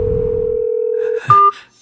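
A telephone dial tone hums steadily while a call is being placed, then cuts to a couple of short, sharp dialing beeps before fading.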